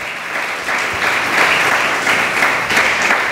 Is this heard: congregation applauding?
yes